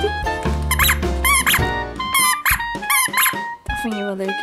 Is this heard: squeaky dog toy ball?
yes